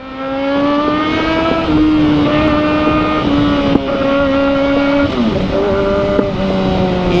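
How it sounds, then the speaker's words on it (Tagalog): Kawasaki ZX4RR motorcycle exhaust revs loudly and continuously, its high engine note wavering, dipping and climbing as the throttle is worked, with no talking over it. "Ingay ng exhaust."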